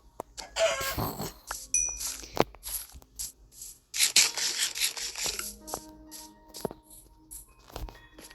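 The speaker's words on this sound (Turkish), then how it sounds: "Tavuk sana ihtiyacım var maalesef." Minecraft chicken clucks in a video game, several short bird calls spread over gameplay sounds with clicks and thumps, heard alone without speech.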